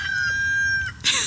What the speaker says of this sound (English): I'm going to be competing with the roosters today